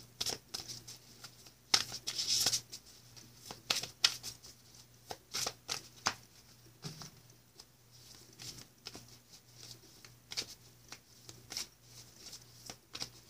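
Tarot cards are shuffled up close in a quiet room: a series of quick papery riffles and flicks, with short bursts, soft taps and brief pauses between them, and no talk.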